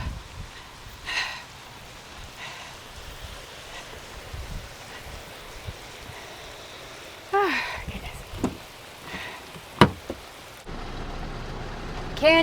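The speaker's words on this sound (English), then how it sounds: "Oh goodness, it's just pouring." Heavy rain pours down outdoors during a walk, a soft steady hiss with a few louder bursts and clatters partway through, fairly quiet overall and with no clear talk over it.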